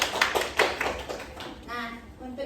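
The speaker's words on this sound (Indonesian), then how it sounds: "tepuk tangan dulu untuk Nadia" Classroom applause for a student in a high school lesson, a short burst of many hands clapping close by, fading as a teacher's voice takes over.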